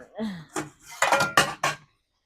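A lid goes down on a pan of sautéed chayote with egg, making a few close metallic clinks and clatters in quick succession before the sound stops.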